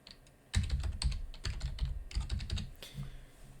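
Computer keyboard typing a certificate name during a Windows Server 2019 setup, a quick close burst of key clicks with short pauses between groups, alone with no talking.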